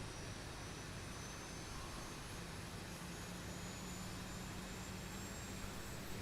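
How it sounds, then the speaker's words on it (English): A Boeing 737-800 jet engine spools up during a cold and dark start in the X-Plane 12 flight simulator, a steady broadband roar with a faint rising whine and no talk. "And then we're going to go outside. Watch that engine fire up."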